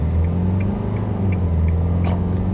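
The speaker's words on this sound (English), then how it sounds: "That engine is quite noisy." A 2023 Isuzu D-Max utility pickup's diesel engine drones steadily from inside the cab, a low constant rumble with a faint whir, no voices.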